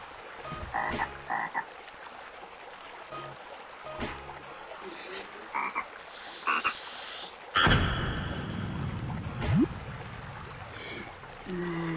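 A frog croaks in the video game Crazy Hangover, a loud, close burst of croaking partway through, amid scattered game effects and splashy water-like noise, with people talking over it.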